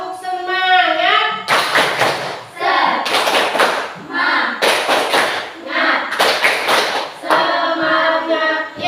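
An elementary school class performs a rhythmic cheer clap during an ice-breaking activity, with sharp bursts of group clapping alternating with chanted children's voices.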